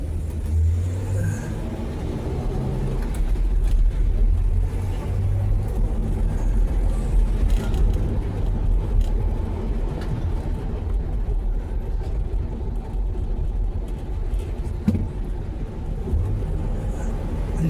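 A Studebaker car being driven, with a steady low engine drone and road rumble from inside the cabin that holds evenly throughout.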